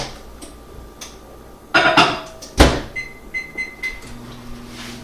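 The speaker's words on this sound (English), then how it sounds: "I'm going to go throw this in the microwave and get it melted." A microwave oven melting butter in a dish: a door clunks shut, keypad beeps sound in a short series, then a low steady hum starts as it runs, all close by.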